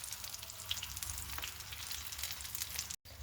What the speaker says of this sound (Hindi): फिर हम उलट पलट करके इसी तरह से इसे फ्राई कर लेते हैं